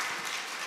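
An audience in church claps during a Wednesday worship service, a brief burst of scattered applause from a crowd at moderate distance.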